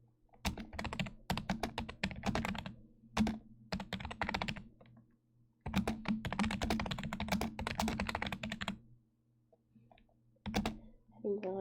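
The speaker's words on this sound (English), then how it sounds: "I shouldn't be typing for this long, but when have I ever listened to reason anyway?" Rapid typing on a computer keyboard clatters in long, dense bursts of clicky keystrokes, close and crisp, broken by several pauses of a second or two.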